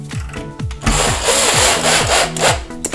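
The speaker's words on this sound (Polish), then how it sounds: "Otwór wywiercony, możemy przykręcić nasz zamek. Na razie złapiemy na jednego wkręta." Screw being driven by a power screwdriver to fix a furniture lock to wood: a close, loud motor whine with repeated falling pitch sweeps as the screw bites, continuing steadily with friction noise throughout.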